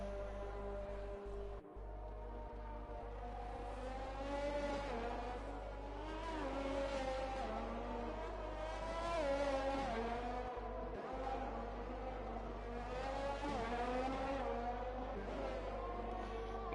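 Race car engines from a Formula 1 racing video game, Red Bull and Ferrari cars, droning steadily at high pitch with shifting revs throughout, with no talk over them.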